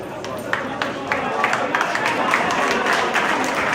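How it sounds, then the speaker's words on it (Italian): Applause breaks out from the team bench at an amateur Coppa Italia Eccellenza football match in Sicily, scattered claps building into steady clapping over crowd noise and background voices. "Applausi che partono dalla panchina"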